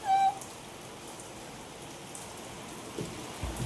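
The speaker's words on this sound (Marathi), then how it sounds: "खूप मुसळधार पाऊस चालू आहे" Heavy monsoon downpour with lightning about, a steady dense hiss of rain on surfaces, moderately near and even throughout, with a brief tone at the start and no talk.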